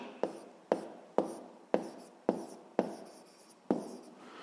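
Hand writing on a board during a sixth-grade math lesson, heard as seven sharp, evenly spaced strokes, each a quick scratch that fades, close and clear with no talking.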